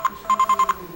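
A telephone bell rings in short repeated bursts, one brief ring followed by a quick run of five evenly spaced rings, clear and close with no talk over it.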